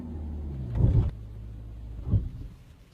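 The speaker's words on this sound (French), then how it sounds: "Vous avez calé." A car pulls away in first gear during a driving lesson, giving a heavy low engine surge, then a second brief lurch as the engine stalls. It is close inside the cabin, with a steady low hum between.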